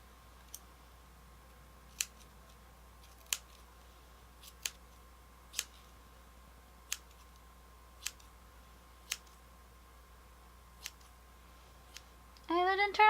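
Scissors snipping a costume wig, sharp isolated clicks spaced every second or so, clear and close in a quiet room, with a brief louder rustle at the very end.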